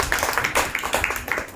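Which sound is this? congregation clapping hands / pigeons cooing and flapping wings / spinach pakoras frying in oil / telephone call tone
congregation clapping hands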